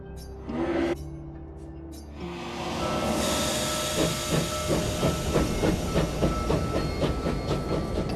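A train in the video game Clair Obscur: Expedition 33 releases a loud hiss of steam, then settles into a rolling run with a steady, rhythmic clickety-clack of wheels on track, no talk over it.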